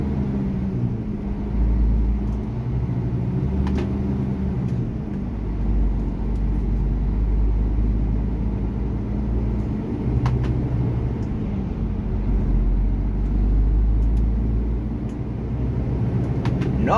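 Heavy truck driving on cruise control in KwaZulu-Natal, South Africa, a steady low engine rumble and road noise heard from inside the cab, with occasional faint clicks and rattles.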